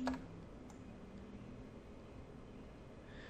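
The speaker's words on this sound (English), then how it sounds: "You'll see even when I'm clicking and dragging around" A computer mouse gives a few sparse, faint clicks over a low steady hum while working in a website builder.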